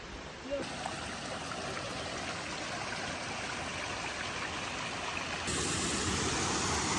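Iron-rich mountain stream near Padola in Comelico Superiore flowing over red-stained stones, a steady close rushing and trickling of water that grows slightly louder near the end.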